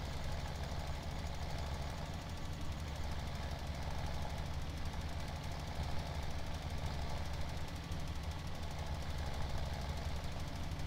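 Tractor engines in the Farming Simulator 17 farming game, a constant rattling, knocking drone that runs evenly at a low level with no speech.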